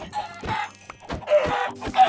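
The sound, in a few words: chickens clucking in a video game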